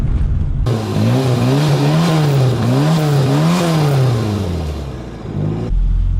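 A three-wheeler car drives past close by, its engine revving loudly in repeated rising and falling surges as it accelerates, with no one talking.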